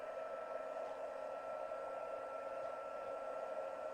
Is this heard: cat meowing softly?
no